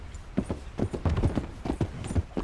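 Horse hooves clip-clop at a walking pace in Red Dead Redemption 2, a steady run of close, fairly loud thuds with an occasional faint snort and no talking.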